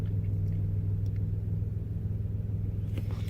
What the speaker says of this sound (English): Yep, the car's running.